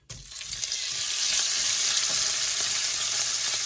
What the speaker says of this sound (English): Now I'm going to add my sausage.